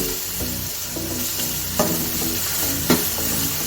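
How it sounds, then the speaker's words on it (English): Spices frying in hot oil in a pot for a Nigerian local rice dish, with a steady sizzle, a spoon stirring and scraping throughout, and two sharper clanks against the pot. No talking. "allow it to fry for 10 minutes"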